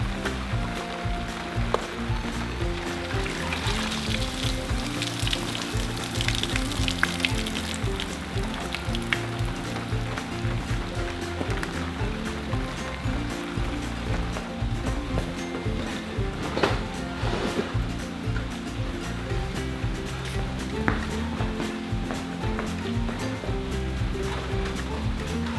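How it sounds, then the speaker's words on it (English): Steady rain falls outdoors on small seedlings in pots, a dense continuous hiss and patter lasting throughout at even loudness, with faint scattered drips and no voices. "Brought the little seedlings out for some rain."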